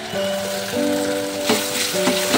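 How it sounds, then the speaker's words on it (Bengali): Ground spice paste with turmeric frying in a pan over already-fried onions: a close, steady, loud sizzle with occasional stirring scrapes. "মশলাটাকে ভালো করে ভেজে নেবো"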